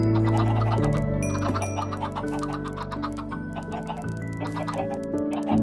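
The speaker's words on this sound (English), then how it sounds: "I'm making a lot of chickens." Chickens in the video game Minecraft cluck repeatedly in short, close, fairly loud bursts, layered over steady sustained tones.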